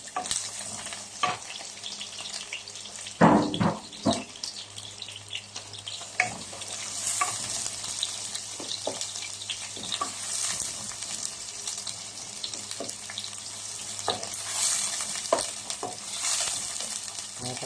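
Garlic and onion sizzle in hot oil in a pan for sweet and sour chicken, a steady frying hiss with stirring clatters and a louder burst of spattering as ingredients go in.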